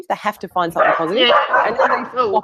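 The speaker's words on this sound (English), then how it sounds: "That's my dog." A dog barks and yips repeatedly, loud and close, while a person keeps talking over it during an indoor interview.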